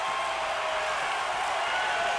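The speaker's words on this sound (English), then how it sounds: "look at the crowd. The crowd loves it" Crowd at a Bethel Bruins vs. Norcom Greyhounds basketball game cheering in a steady, dense roar throughout, fairly loud with no distinct breaks.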